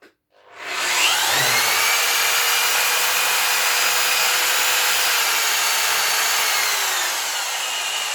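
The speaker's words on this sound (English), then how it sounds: "And now I'm gonna start up and fire up the machine." A Parkside PWDS 920 A1 drywall sander switches on and runs with a loud, steady, high whirring roar that spins up quickly and holds nearly constant, close by, with no talking over it.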